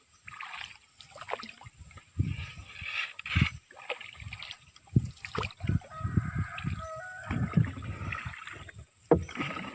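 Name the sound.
boat being pushed along with a pole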